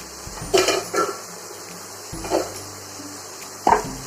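A metal lid is lifted from a pot of brinjal curry, with a few sharp clanks and scrapes spaced out over a quiet kitchen background.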